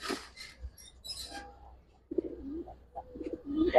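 Old-bloodline Giribaz pigeons coo in low, throaty bursts close by, with quieter rustling and faint higher calls in between.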